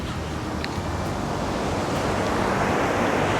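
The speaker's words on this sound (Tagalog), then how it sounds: "Lakas ng alon talaga" Strong ocean waves crash and churn at a rocky tidal pool beside a Pacific beach resort, a loud, continuous roaring surf building slightly toward the end, with wind buffeting the microphone.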